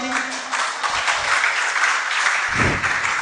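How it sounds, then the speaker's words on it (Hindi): Audience applause at a Jain sermon during a Tattvartha Sutra reading camp, a dense steady wash of many hands clapping that runs the whole time, with a low thump near the end. "अब बजाओ ताली।"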